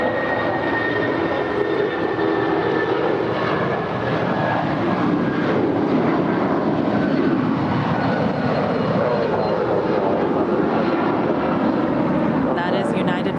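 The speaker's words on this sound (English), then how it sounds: "That is United Flight 1250 off to San Francisco. It's a 27-year-old 757-200." A 27-year-old United Boeing 757-200 departing LAX for San Francisco, its engine roar rising and sweeping in a broad drone, with someone talking over it at times and a brief high tone near the end.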